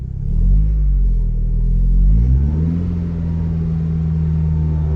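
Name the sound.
Vauxhall Carisma Cavalier SRi engine revving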